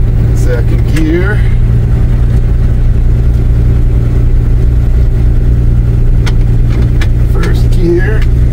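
A 1958 Chevy Apache pickup with a three-on-the-tree column shifter, towing a boat, drones loudly and steadily as it runs through its gears, with a voice faintly audible over the engine.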